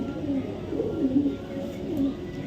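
A male 2025-ringed racing pigeon coos softly in low repeated throaty notes at close range, a few calls spread across the moment.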